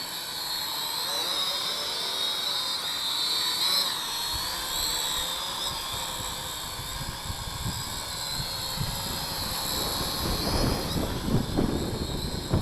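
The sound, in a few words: Skytech TK110HW drone flying in to land in wind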